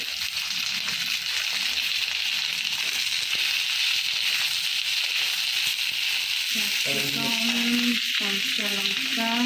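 Capsicum and green chilli fry in a pan with a loud, close, constant sizzle, with some stirring and a brief burst of voice-like sound near the end.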